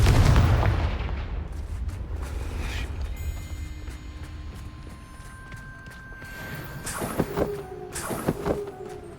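Confringo fire-blast spells explode in the video game Hogwarts Legacy, with a heavy booming burst at the start, then a rumbling fiery tail and later sharp crackling impacts over a steady low game soundscape, with no talk.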